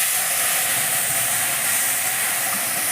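Spiced paste hitting hot mustard oil with whole cumin tempering for a Bengali katla fish curry, a loud steady broadband sizzle and hiss throughout.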